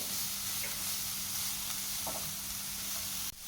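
Carrot halwa frying in a pan over a low flame, giving a steady, even sizzle with faint stirring scrapes throughout, ending in a brief clatter.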